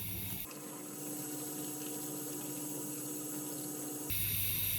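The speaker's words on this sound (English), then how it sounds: "I've run the tap, so I've got a very small stream of water" A very small stream of water runs steadily from a tap into a paper cup, a soft continuous trickle heard close up with no talking.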